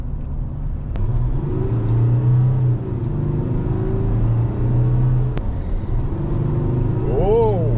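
A VW Amarok 3.0 V6 TDI diesel engine drones and rises in pitch as it revs while driving, with rumbling road noise underneath and people talking over it.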